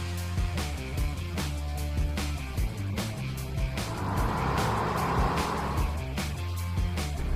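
A stock diesel truck runs hard on a Superflow load-cell chassis dyno, its engine holding a loud, steady drone with rhythmic surging and clattering pulses as the run builds, close and dominant throughout.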